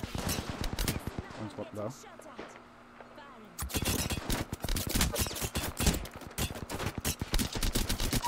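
Dense, rapid gunfire bursts from the battle royale game Apex Legends crackle nearly nonstop, broken by a brief lull, while players talk over the shooting.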